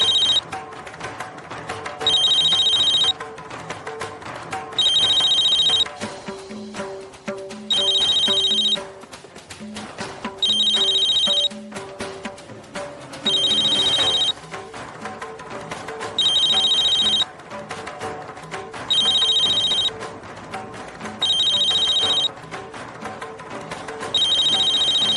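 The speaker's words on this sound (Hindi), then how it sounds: "आपका फोन बज रहा है, साइलेंट मोड पर डाल दीजिए" An office phone rings in a repeating electronic ringtone, short bursts at steady intervals for the whole stretch, loud and close with no one answering.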